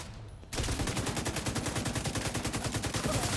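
Rapid automatic gunfire from The Division 2 video game, a loud sustained burst of evenly spaced shots starting after a brief quiet moment and running to the end.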